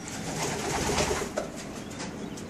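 Racing pigeons coo softly inside a loft, a few low throaty calls blending together close by with no one talking.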